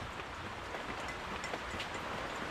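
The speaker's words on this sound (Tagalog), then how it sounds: "Ang lakas ng ulan." Heavy rain falls outdoors on a farm in the countryside as a steady, dense hiss with scattered sharper drops, fairly quiet and continuous, with no talk over it.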